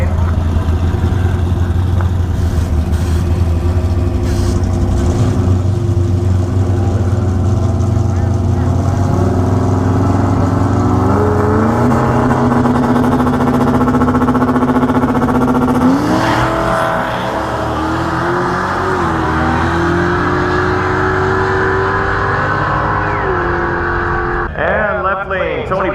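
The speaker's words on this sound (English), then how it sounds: "Got some nitrous on that Chevy in the right lane." A nitrous-fed Chevy drag car roars loud and close down a no-prep drag strip, its engine pitch climbing through the run, with a commentator's voice over the noise.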